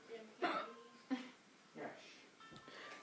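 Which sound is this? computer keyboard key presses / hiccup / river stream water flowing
hiccup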